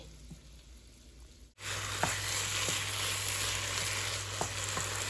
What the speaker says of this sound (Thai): นี่ก็จะผัดมะเขือม่วงต่อเลย